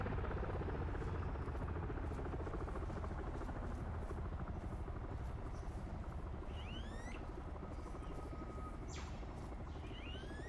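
A military helicopter in the video game Arma 3 drones steadily with a pulsing rotor throb, loud and continuous, while faint bird chirps sound in the background.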